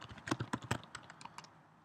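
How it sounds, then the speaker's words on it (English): Typing on a computer keyboard in a Linux terminal, a quick burst of close, crisp key taps including the tab key, dense at first and then thinning to a few scattered presses. "you can see that I hit the tab button and it auto-completed the entire line"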